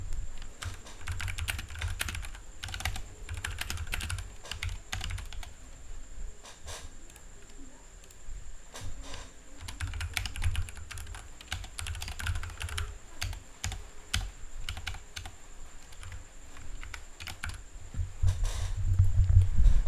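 Rapid keyboard typing on a computer while formatting text in Google Slides, a steady patter of close, crisp key clicks running throughout with brief pauses and a faint low hum beneath.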